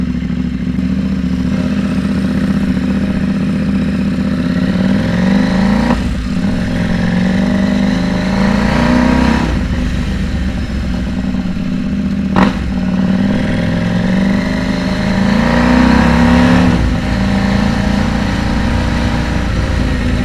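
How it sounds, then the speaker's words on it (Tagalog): A KTM 790 Duke motorcycle engine runs steadily and loudly up close, with a few sharp exhaust pops breaking through the continuous rumble. "Pag i-start mo, may naputok sa likod eh. Puputok yung tambucho eh."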